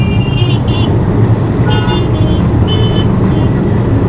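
Busy suburban Mumbai road traffic rumbles steadily close by while several car horns toot in short bursts, some doubled, over the continuous engine drone.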